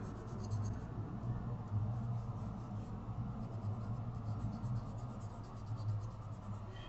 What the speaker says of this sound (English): you can erase your horizon line